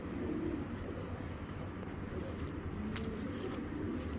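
A Giribaz flying pigeon in Bangladesh gives soft, low coos, faint beneath a constant hum of background noise.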